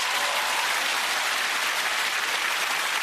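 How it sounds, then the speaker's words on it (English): A television studio audience on a game show gives a sustained round of applause, thick and uniform clapping that holds at a steady loud level from start to finish. "Give me a round of applause."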